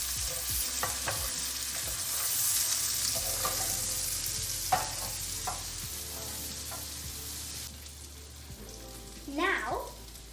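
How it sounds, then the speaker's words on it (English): Caramelized onions sizzle in a frying pan while chicken adobo is being prepared. A steady, close frying hiss runs throughout, with a few soft clinks and scrapes on top. "my onions have been fully caramelized and they're sitting there sizzling away"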